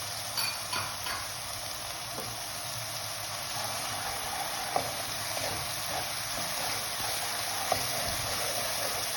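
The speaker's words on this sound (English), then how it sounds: "As the onions are frying, this will also get fried." Onions with ginger garlic paste fry in a pan for an egg malai curry, giving a steady, even sizzle with a few faint clicks and taps now and then, no voices.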